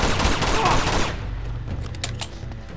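Pistol gunfire in the video game Uncharted 2 comes as a dense burst of shots and booms at the start, then fades to a low rumble with a few scattered cracks.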